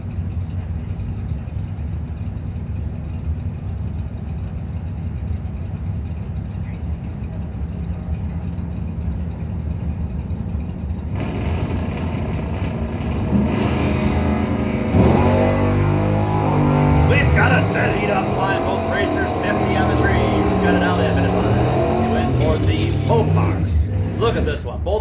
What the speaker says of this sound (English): Got Al McChesney, 67 Belvedere out of Freeland with a 619. Mopar versus Bowtie